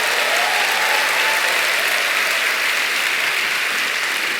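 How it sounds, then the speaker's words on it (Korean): Church congregation at a Friday night worship service applauding the youth group: dense, steady clapping from a large crowd, loud and sustained throughout with no voices standing out. "우리 청년부도 박수 한번 쳐줍시다."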